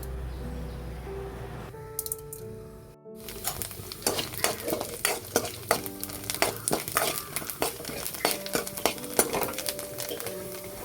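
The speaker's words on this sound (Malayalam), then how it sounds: "ഇതിലേക്ക് കുറച്ച് അരിയും കൂടെ ചേർത്ത് കൊടുത്ത് നന്നായിട്ടൊന്ന് വറുത്തെടുക്കണം." Rice roasting in a pan for a banana flower thoran, stirred steadily, with a continuous close sizzle broken by repeated sharp scraping and clinking of a spoon against the pan.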